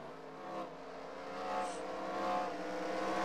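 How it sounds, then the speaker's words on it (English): A race car on a short track in a racing game climbs through its gears, the engine droning and rising in pitch with brief dips between shifts, steady and moderately faint without any talk. "listen to how he gets through the gears making his way around the short track"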